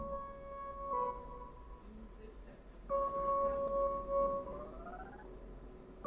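Electric-guitar-style lead synth for a jerk-style beat, washed in reverb with stuttering repeats, sustained tones that rise near the end, sitting over a busy low beat with no talking.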